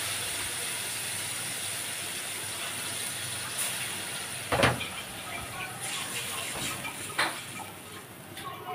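Onion paste and chopped onion sizzle in hot oil with bay leaf for egg korma, a steady broadband frying hiss throughout with a sharper burst near the middle as the paste goes in.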